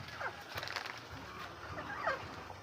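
A young pullet just released outdoors calls in a few short bird-like cries, close by, with other low farmyard sounds behind them.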